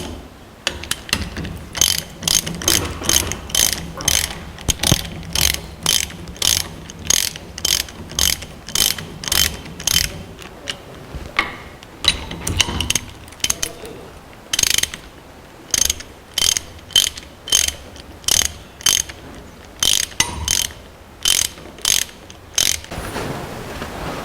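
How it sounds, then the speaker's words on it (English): A reversible ratchet wrench tightens final drive bolts with the part clamped in a bench vise, giving bursts of rapid, crisp clicking in regular strokes, close and fairly loud, with short pauses between runs and no talking. "in order to tighten the bolts. Let us use a bench vise."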